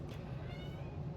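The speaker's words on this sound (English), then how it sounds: "my cat is going crazy" A pet cat meows indoors, a short and fairly faint call over a steady low background hum, with no talking.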